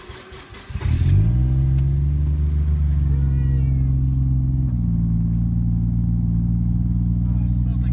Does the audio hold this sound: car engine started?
yes